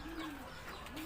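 Racing pigeons in a loft give soft, low coos, one near the start and another at the end of the brief, faint stretch, with no talk.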